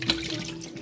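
Tap water runs steadily into a container during household cleaning, a continuous close splashing flow with no talk over it.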